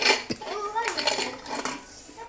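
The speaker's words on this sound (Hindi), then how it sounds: "पूरियाँ सब गिर रही हैं यार" Puris clatter into a metal dish in a few quick drops during pani puri making, with voices talking throughout.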